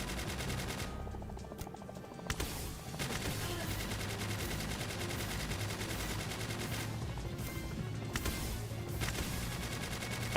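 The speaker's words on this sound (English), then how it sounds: "The only attack you actually have to worry about are his, the machine gun." A boss firing a machine gun in Palworld: sustained automatic fire rattles steadily and fairly quietly, with a couple of short dips in intensity along the way.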